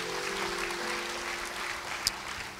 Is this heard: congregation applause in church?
yes